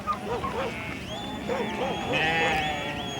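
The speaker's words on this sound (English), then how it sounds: "Part of the problem was sheep." Sheep on South American ranch land bleat repeatedly, several overlapping wavering calls close by against a rough outdoor background, with narration running underneath.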